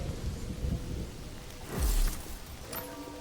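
Rain falls steadily in the Mind Over Magic video game, and a deep roll of thunder swells midway before fading under the ongoing patter.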